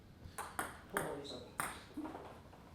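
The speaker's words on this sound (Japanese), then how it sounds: "下回転サーブを出してみます" Table tennis backspin serves: several sharp ball taps and bounces on the table in an uneven sequence, close and fairly faint, with some light room noise between hits.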